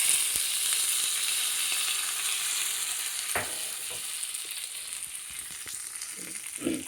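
Hot spiced tempering hits dahi vada with a steady broadband sizzle that hangs on throughout, with a few brief clinks and stirring sounds near the end.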